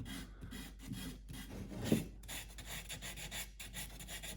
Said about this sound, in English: rolled configuration of this sandpaper is kind of nice for this neck seam